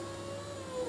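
Power window motor in the door of a 2006-2011 Chevrolet HHR, running with a steady whine whose pitch glides slightly downward, close and continuous for under a second, no voices.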